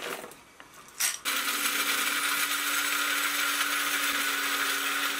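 Coffee beans being ground in an electric grinder for French press brewing: after a short start, a loud, steady whirring grind runs continuously close by, with no talk.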